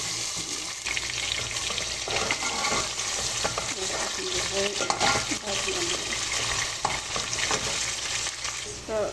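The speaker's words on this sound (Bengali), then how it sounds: "চুলার মাঝে একটা ডেক বই আমি তেল দিয়ে নিলাম। আমি পেঁয়াজ রসুন একসাথে দিয়ে" Oil sizzles in a pot as onion and garlic fry and are stirred, with scraping and clinking of a utensil over a continuous frying hiss.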